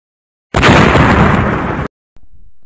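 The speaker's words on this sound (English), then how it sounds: "Sometimes fireworks make you think it's broken, but works later" A Fourth of July firework goes off with a sudden loud crackling roar that sustains for over a second then cuts off sharply, followed after a short gap by a fainter lingering hiss.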